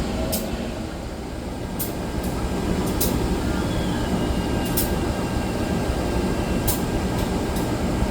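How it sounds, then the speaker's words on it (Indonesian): The Kahuripan passenger train from Blitar to Bandung Kiara Condong rumbles steadily at Sidareja station, a continuous low mechanical drone with faint clanks and sharp metallic ticks scattered through it. "Kereta api Kahuripan 273 diberangkatkan duluan ya."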